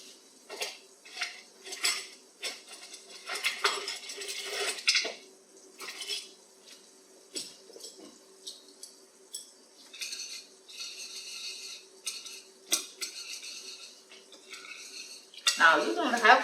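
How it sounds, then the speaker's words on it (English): Eggs broken up and lightly beaten with chives in a bowl, quick clinking taps of utensil against dish in short bursts with pauses, close and fairly quiet. "Now you don't have to beat this egg too much. Just break them up. Mix it with this chive."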